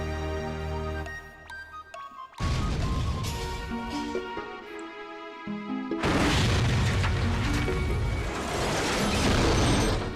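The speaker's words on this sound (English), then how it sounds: "Explosions." Repeated booming explosions from the video game Chocobo's Dungeon 2, loud and dense, with a quieter musical stretch before a burst of heavy blasts that keeps rumbling to the end.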